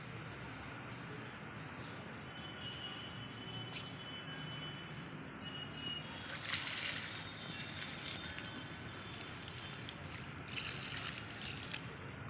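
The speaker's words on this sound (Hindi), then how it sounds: "और नहाने के बाद मैं दे रही हूँ पौधों को पानी।" Water pours from a container onto potted plants, including mint, in a home garden, making a steady close trickle and splash that swells into a heavier gush midway and continues to the end.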